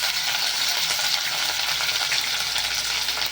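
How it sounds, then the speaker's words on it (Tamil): Ginger, garlic and curry leaves sauté in hot oil, giving a steady, close hiss of frying that holds evenly throughout with no talk over it. "இஞ்சி பூண்டு சேர்த்துட்டு கொஞ்சம் வதங்கட்டும்"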